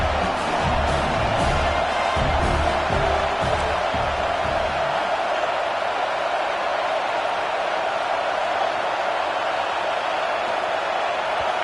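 A stadium crowd in the NCAA 26 college football video game roars loud and sustained, a broad wash of cheering and whoops that keeps building, with game announcers talking underneath early on.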